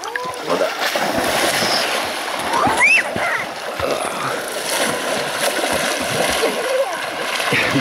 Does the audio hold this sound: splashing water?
yes